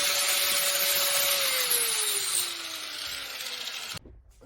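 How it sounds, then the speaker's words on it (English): An angle grinder fitted with a 120 grit flap disc grinds a golf wedge in a loud, steady, close rasping whine whose pitch slowly drops before it stops abruptly near the end. "just from that few seconds of grinding, you can see material already taken off"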